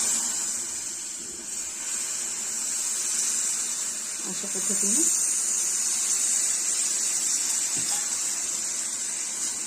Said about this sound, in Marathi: गुळाचं जे पाणी तयार करून घेतलंय ते घालणार आहोत